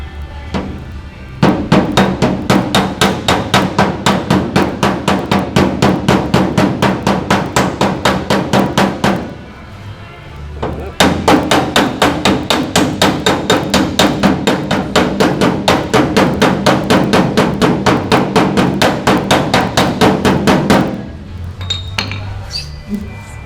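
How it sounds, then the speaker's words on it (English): A shrink hammer striking a metal bedside panel during repair, two long runs of rapid, evenly spaced metallic blows, loud and close, with a short pause between the runs. "I'm going to use the shrink hammer"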